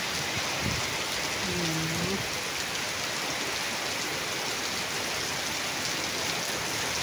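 Heavy rain pours steadily with strong wind during Typhoon Nando, a dense constant hiss close by with no break.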